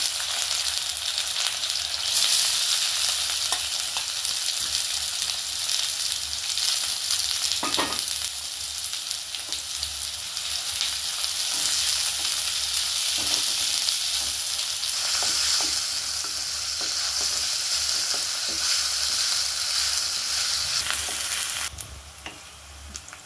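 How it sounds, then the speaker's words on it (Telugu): Onions frying in hot oil in a kadai give a loud, steady sizzle that fills the whole stretch, with faint stirring scrapes and a small drop near the end. "ఆయిల్ వేడైందండి, ఉల్లిపాయలు వేసుకుందాం."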